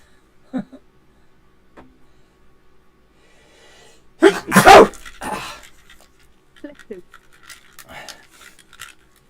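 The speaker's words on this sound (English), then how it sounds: "I literally sneezed the headphones off my head." A single sharp sneeze bursts out mid-clip, loud and close, with a few faint voice sounds and small noises scattered before and after.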